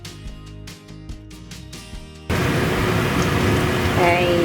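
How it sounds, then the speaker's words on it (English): A kitchen exhaust fan roars while garlic sizzles in hot sunflower or olive oil for Filipino sautéed cabbage; the steady, loud broadband whoosh cuts in abruptly midway, replacing softer tonal kitchen sounds. "Okay, that sound is from the exhaust."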